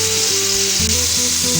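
Mutton steak fries steadily in a pan over a medium flame, a loud, constant sizzle with no break and no voices.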